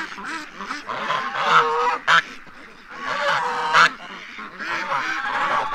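Geese honking repeatedly and loudly nearby, a busy overlapping chorus of nasal calls with a few sharper bursts standing out.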